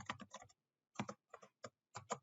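Soft keystrokes on a computer keyboard as a command is entered in Stata, a quick cluster of taps, a brief pause, then several more spaced clicks, close and quiet with no talking.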